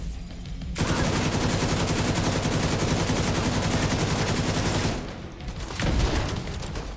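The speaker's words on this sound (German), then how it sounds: "Jetzt schießen sie auch auf die Fässer schon." Rapid automatic gunfire from The Division 2, aimed at barrels, rattles loud and continuous for about four seconds, then breaks off, followed by one more short burst near the end.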